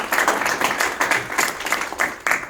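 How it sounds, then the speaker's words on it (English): Applause from the audience at a university board meeting, a steady crowd clapping that fills the room at close range for a few seconds. "So let's give Christine Schulteis a round of applause in her absence"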